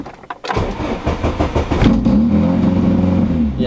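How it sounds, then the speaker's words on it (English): A car engine with a rev start fault caused by a loose wire cranks and fires up, jumps straight into a loud high rev, then settles into a rough, rumbling idle, close and alone. "I'm gonna start the car up real quick so you guys are new, you can hear what it sounds like"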